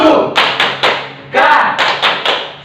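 Youth teachers at a church Sunday school service clap out a new rhythmic pattern together: loud, close, evenly spaced bursts of group clapping, about eight beats with a short pause in the middle.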